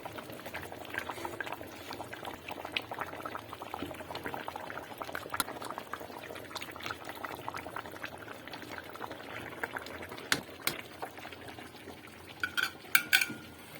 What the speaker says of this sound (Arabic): ونخلي المرق ديالنا يبدا يعقد